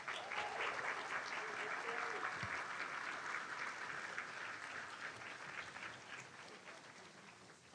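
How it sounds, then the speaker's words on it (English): Audience at a fundraising banquet applauding, with steady clapping from a full room that fades slightly toward the end and a few voices mixed in. "Give her a round of applause"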